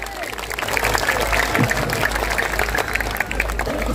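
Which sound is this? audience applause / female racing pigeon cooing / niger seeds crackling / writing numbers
audience applause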